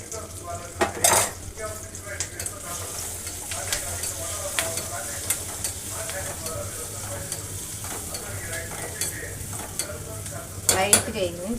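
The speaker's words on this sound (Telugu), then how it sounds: "పసుపు వేద్దాం కొంచెం." A spoon stirs ingredients in a sizzling cooking pan as turmeric is added, with a steady frying hiss and scattered metallic scrapes and clinks against the pan.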